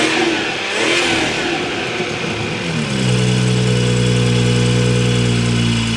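A BMW 440i with its stock intake revs close by, the engine climbing and falling through several throttle blips before settling into a loud, steady high-rpm drone.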